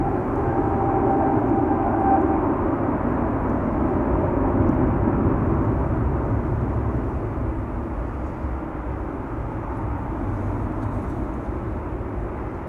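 An Embraer 195 E2 airliner arriving at Amsterdam Schiphol from Gdansk, its engines giving a steady, fairly loud jet roar that holds throughout with no voices.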